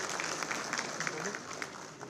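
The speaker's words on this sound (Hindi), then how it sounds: "तालियां जोरदार।" An audience claps at a public ceremony, a short burst of scattered applause with distinct individual claps over a crowd hum that eases off toward the end.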